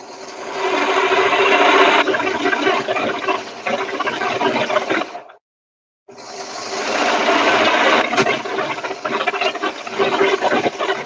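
A sewing machine stitching garment seams runs loud and close in a steady continuous whir for about five seconds, stops briefly in silence, then starts again and runs to the end.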